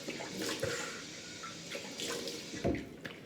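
Cold water runs from a tap at a sink during a shave, a steady, fairly close splash with a couple of brief louder splashes, and no speech.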